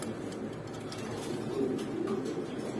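Baghdadi pigeons, an adult pair, cooing softly in a steady low murmur close by, with a faint background hum and no clear talk.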